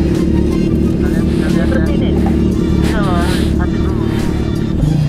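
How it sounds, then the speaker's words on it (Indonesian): Cars passing on a mountain road at about 2,208 metres, a loud, steady engine and road roar that swells as vehicles go by, with no break in the drone. "takut kesenggol mobil, banyak yang lewat"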